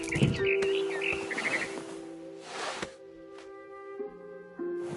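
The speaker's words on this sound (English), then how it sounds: "I heard chirping outside my window. It was a barn swallow going back to her nest." Bright barn swallow chirps and tweets in quick bursts at the start of the game What Remains of Edith Finch, over a steady tonal hum that lingers through the rest.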